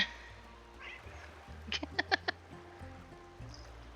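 A pet cat meows several times in a short run of bright, closely spaced calls at close range, with quiet background noise before and after.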